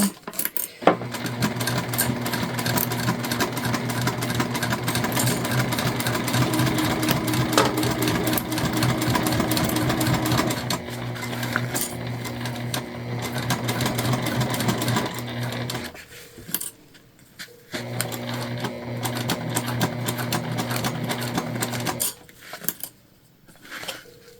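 A sewing machine runs in long steady stitching bursts through an Aurora shoulder bag of waterproof canvas, loud and close, with a short pause near the end before it resumes briefly.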